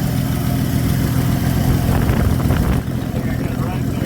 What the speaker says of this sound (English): Yeah, I got an exhaust leak.